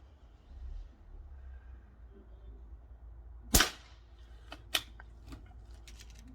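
An SMK TH78D air rifle, fully tuned, fires one sharp, close crack over a quiet room hum, followed by a softer click or two.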